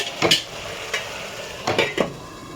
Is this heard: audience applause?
no